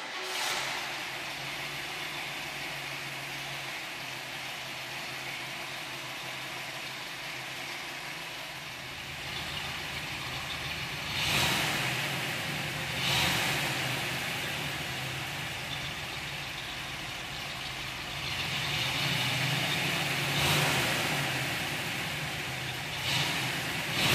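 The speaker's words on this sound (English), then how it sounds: "Cast iron manifolds and a factory style dual exhaust system help retain the vintage exhaust note" A 1961 Chevrolet Corvette with cast iron manifolds and a factory-style dual exhaust idles steadily, a low, even rumble with a couple of brief swells in the engine note.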